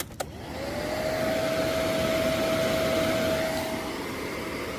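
Honda Click 200cc scooter fitted with a dual radiator, its engine running steadily after a sharp start, a continuous loud whirring drone with a faint tone held throughout.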